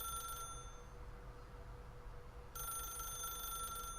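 Telephone in the video game The Stanley Parable ringing with a bright electronic bell, one burst at the start and another after a pause, faint over a low room hum.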